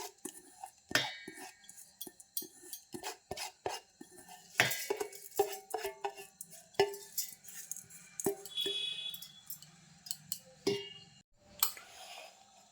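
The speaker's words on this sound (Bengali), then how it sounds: "একটা মিক্সির জার নিয়েছি চালটা ঢেলে দিচ্ছি" Soaked rice is poured into a mixer jar, giving a quiet series of scattered clinks, taps and rattles against the container with short pauses between bursts.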